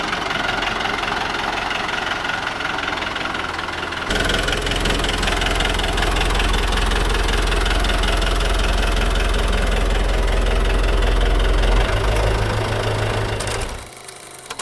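A tractor engine idles loudly and steadily up close, a rough knocking diesel rumble that shifts to a heavier, deeper tone after a few seconds and keeps running before easing off at the end.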